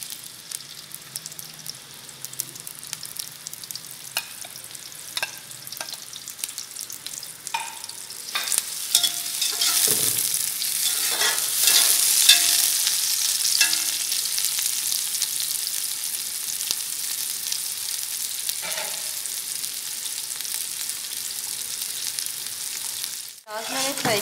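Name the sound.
onions frying in oil for Afghani pulao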